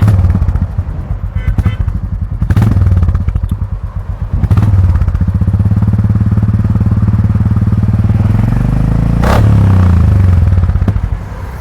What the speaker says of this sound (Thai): ก็ลองฟังเสียงกันดูนะครับรถพี่เอ๋